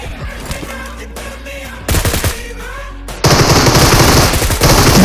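Rapid machine-gun bursts in the PUBG Mobile video game, loud and close, coming in several rattling volleys that grow heavier and more continuous toward the end.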